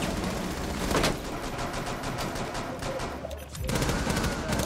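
Rapid gunfire in Rainbow Six Siege, dense bursts of automatic shots crackling almost continuously, with a brief lull before another volley; loud and close, with faint voices underneath.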